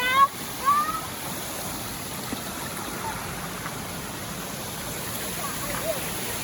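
Water flows steadily in a shallow creek below a waterfall, a constant soft rush with a few faint splashes near the start.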